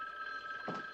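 A telephone rings with a steady electronic bell tone, alone and clear over one second, as an expected long-distance call comes in.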